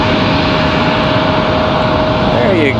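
A United Airlines airliner in retro livery at Raleigh-Durham airport roars loudly and steadily with a constant jet whine, a broadband wash of engine noise filling the whole stretch, with a slight pitch sweep near the end.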